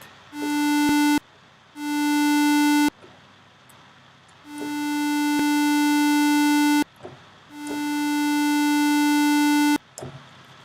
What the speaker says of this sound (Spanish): Si yo quiero que el sonido ataque más suave, le voy a dar tiempo de ataque